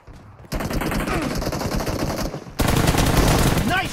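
Loud sustained automatic gunfire fills a team deathmatch round in the shooter game New TDM Santorini, rattling continuously in two dense bursts, the second even heavier.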